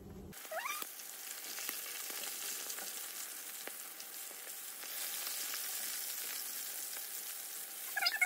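Batches of mustard-coated fish fry in hot oil, a steady, even sizzle that fills the whole stretch, with a couple of brief clicks or clatters near the start and end and no talking.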